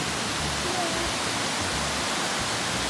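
A waterfall at San Diego Zoo Safari Park gives a steady, even broadband rush of falling water that holds at a moderate level for the whole stretch, with faint low rumble and no clear talk over it.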